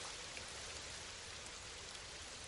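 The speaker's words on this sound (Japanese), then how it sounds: "ああ、雨ね。" Steady rain falls in a city, an even, continuous hiss of drops with no pauses and no voices.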